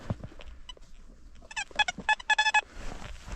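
A metal detector sweeping a field at an old cottage site gives a short series of clipped electronic beeps in quick rhythm. The tones are close and clear over quiet handling noise.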